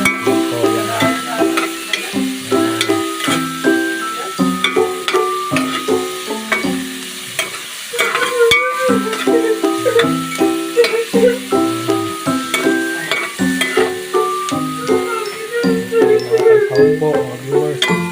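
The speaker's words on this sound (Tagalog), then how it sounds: "Binigisa ko po yung sahog." Ingredients being sautéed in a pan with steady, loud sizzling and frying over continuous scraping and stirring of a utensil against the pan, close up, with musical background running throughout.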